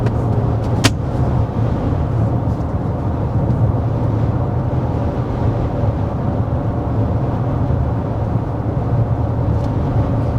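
Steady cabin noise inside a 2025 Mazda CX-70 PHEV cruising at 55 mph in sport mode with the fan on low, a constant broadband road and wind rumble with no voices.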